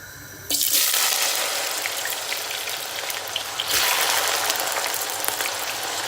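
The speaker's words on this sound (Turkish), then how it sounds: "kibrit patateslerimizi kızartmaya başlıyoruz şimdi" Matchstick-cut potatoes dropped into hot oil on a home stovetop, a loud, steady broadband sizzle that bursts in, settles, then surges again midway as more potatoes go in.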